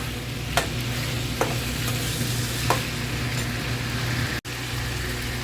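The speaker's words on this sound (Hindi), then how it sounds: "तेल में अच्छे से फ्राई कर लिया" Chicken sizzles steadily in hot oil, a continuous hiss with a few sharp clinks of a utensil stirring.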